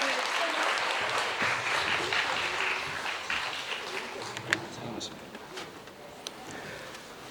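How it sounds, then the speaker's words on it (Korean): An audience in a lecture hall claps to welcome a Hanyang University professor, a steady wash of applause that slowly thins over several seconds. "큰 박수로 환영해 주시기 바랍니다"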